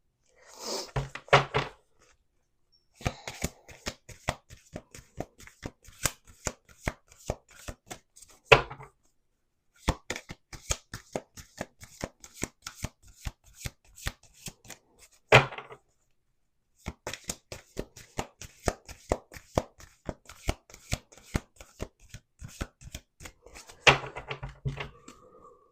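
A deck of cards shuffled by hand nearby, rapid crisp clicks and slaps coming in several runs separated by short silences.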